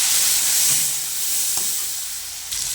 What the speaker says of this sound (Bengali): মশলাটা ভালো করে কষে নেব